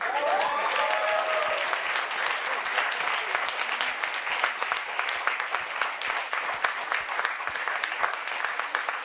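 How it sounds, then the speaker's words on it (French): An audience at a thesis presentation contest gives a prize winner a long, loud round of applause, dense clapping throughout, with a brief voice near the start. "vous méritez un énorme applaudissement"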